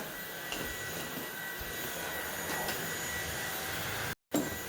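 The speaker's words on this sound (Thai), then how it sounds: "เครื่องดูดฝุ่นนี่ดีมากเลย" A household vacuum cleaner runs with a continuous, even whooshing roar close to the microphone, with a brief cutout near the end before the motor noise resumes.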